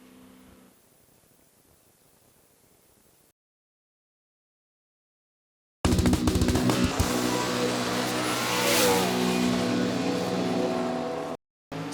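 A red Mustang drag racing car at an NMRA/NMCA Chicago eliminations round accelerates hard down the strip, a loud sustained roar after a few seconds of near silence, with a rising engine sweep and a brief cutout near the end.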